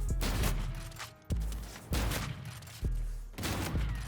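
Repeated shotgun blasts from the first-person shooter game Infinite Warfare fire in quick succession, four or five loud booming shots with short gaps between them, each one cutting sharply into sustained background noise and leaving a brief rumbling tail.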